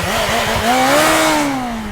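A supercharged Kawasaki H2 SX SE road motorcycle of over 200 horsepower, its engine holding a steady, fairly loud tone that rises gently and then eases back over a couple of seconds, with no talk.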